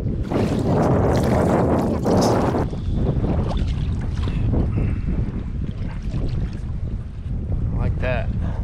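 Wind gusts buffet a microphone aboard a fishing kayak out on the water, a loud rushing roar that eases after a few seconds, with light splashing and knocks following.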